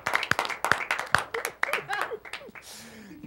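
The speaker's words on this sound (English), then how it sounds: "You can clap now!" Scattered hand claps from a small talk-show audience, uneven and sharp, sounding in short bursts under talking voices before trailing off.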